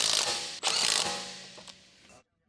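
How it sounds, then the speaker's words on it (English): A large electric impact wrench with a 17mm deep socket snugs down BMW 325ci front wheel lug nuts in two quick rattling bursts, close and clear, then cuts off. "Using a large 17mm deep socket with a large electric impact wrench, snug down the front wheel lug nuts."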